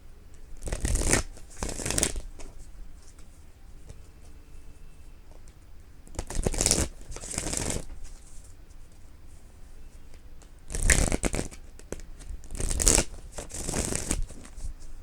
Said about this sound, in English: I'm just shuffling at the moment